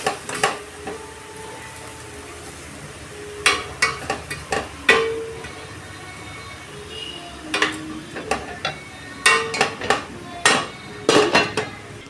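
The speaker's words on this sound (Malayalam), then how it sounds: "നമുക്കൊന്ന് തുറന്ന് ഇളക്കി കൊടുക്കാം." A cooking pot is opened and its contents stirred while preparing a curry, with a faint background hiss broken by clusters of sharp metallic clinks and scrapes of a spoon against the pot.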